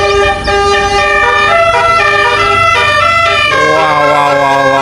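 A Gusti Trans bus sounds its telolet horn, a loud multi-tone musical melody with stepping pitches, played close and continuously over low engine rumble.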